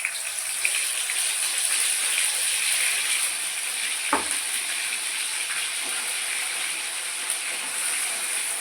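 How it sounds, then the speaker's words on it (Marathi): Onion and ginger-garlic masala paste sizzling steadily in hot oil in a home kitchen, a continuous close hiss and crackle with one brief clatter midway, no talking. "बघा मी मसाला घालत आहे."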